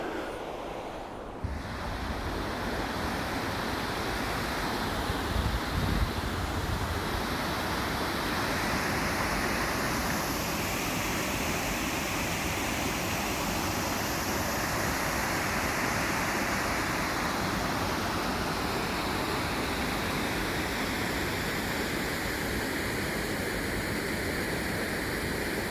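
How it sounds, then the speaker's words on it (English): Water rushing over a weir on the River Don in Sheffield, a steady broad roar of falling river water heard continuously and fairly close, with some wind buffeting the microphone. "Then we come back onto the river just in time for weir number 4."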